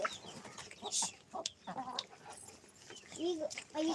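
Short clucks from a hen close by, mixed with bursts of people talking.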